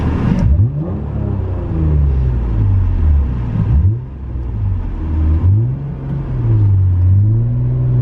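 An Acura NSX drives close by, the engine revving up and down through several shifts with rising and falling pitch, ending in a sustained pull as the clutch engages.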